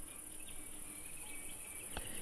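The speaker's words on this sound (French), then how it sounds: "Déjà, on entend les cigales." Cicadas sing in southern France, a steady high-pitched insect drone holding without pause across the whole stretch, with a brief soft knock near the end.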